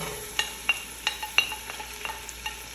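Chopped onion cooking in reused frying oil in a pot, a faint steady sizzle broken by about nine soft, evenly spaced spoon scrapes and taps.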